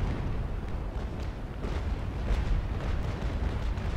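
Heavy ship cannon fire rumbles through a naval battle video game with the Santisima Trinidad, a dense, continuous roar of overlapping booms and blasts with no clear gaps.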